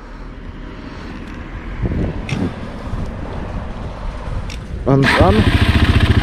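A 2007 Suzuki LTZ 400 sport quad bike with a new chain starts up and settles into a loud, rapidly pulsing idle near the end, after some low rumbles, handling noise and brief German speech.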